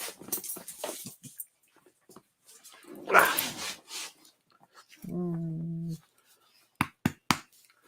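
A puppy gives a few short, separate sounds among quiet rustling and scraping, with a brief tonal whine-like burst in the middle and sharp clicks near the end.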